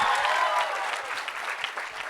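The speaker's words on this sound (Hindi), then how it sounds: "जोरदार तालियां।" Loud, sustained applause from an event crowd, a dense wash of clapping that holds steady for a couple of seconds without a break.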